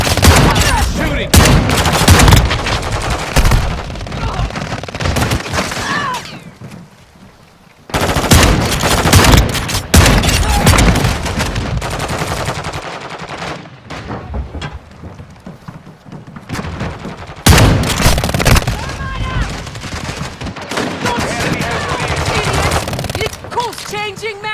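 Gunfire in the mobile game Warzone Mobile, with loud, dense bursts of rapid automatic fire and heavy blasts broken by brief pauses, continuing almost without letup.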